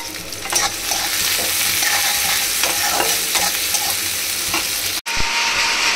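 Onions sizzling in a pan as they are stirred, a loud continuous fry with scattered scraping strokes of the spoon and a brief gap near the end, no voices.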